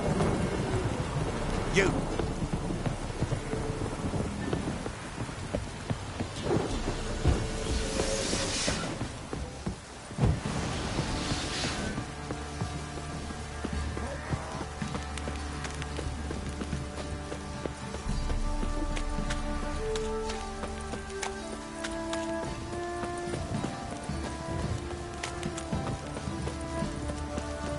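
Steady heavy rain pours throughout in The Witcher 3, with rumbling low thunder and a clopping rhythm partway through, plus a brief spoken word early on.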